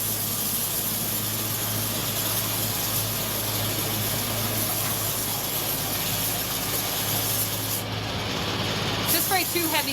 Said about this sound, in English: Just spray 2 heavy coats.